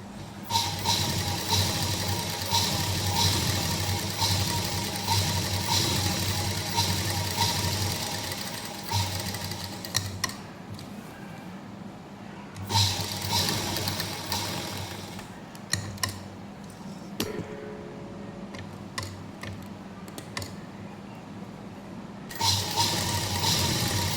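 A sewing machine stitches the crotch seam of a salwar in long continuous runs, loud and near, with a few short pauses and clicks between bursts before the motor starts up again.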